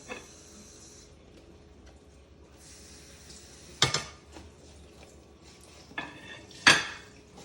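Rice is served onto a plate beside beer-basted chicken: quiet scoops and light clinks of utensils on dishware, then two louder clattering knocks near the end, with no talking.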